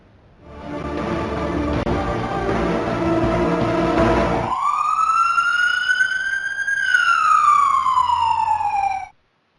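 Ambulance siren in Gujarat: a loud, close electronic wail rises and falls in long sweeps after a burst of rough traffic and engine noise, then cuts off abruptly.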